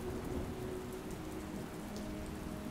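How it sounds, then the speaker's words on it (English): Steady heavy rain pours without a break, with a low rumble of thunder beneath it, all at moderate, even loudness. "Rain lashes against them, driven by gusts of wind"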